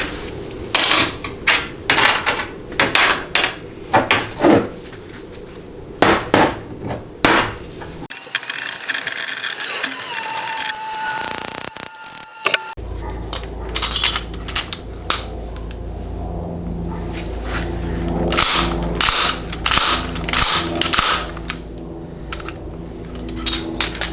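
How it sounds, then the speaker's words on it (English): A slide hammer is worked on a stubborn 68RFE transmission bushing, giving sharp metallic clanks and knocks in irregular bursts, then a stretch of scraping rattle and a brief ringing tone before more rapid metal impacts. "the slide hammer is simply not heavy enough to yank it"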